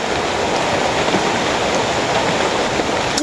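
Steady rain falling outdoors on a mountainside, a dense continuous hiss of drops spread across the whole clip at even loudness, with no voices.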